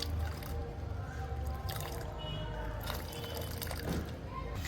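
Water poured into pots of growing lotus plants in a home garden, a continuous splashing trickle with varying flow throughout, fairly close, under some background noise.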